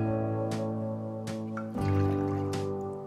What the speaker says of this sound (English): Transfer the orange juice into a small saucepan.